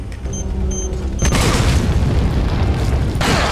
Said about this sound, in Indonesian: Meledak dua-duanya lu.